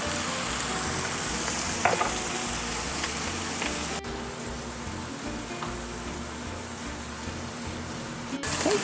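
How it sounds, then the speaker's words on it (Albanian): Chicken fillets frying in olive oil, a constant close sizzle with scattered crackles and light stirring knocks, the level dropping slightly partway through, without talking. "Mishin e pulës do ta skuqim 5 minuta në çdo anë."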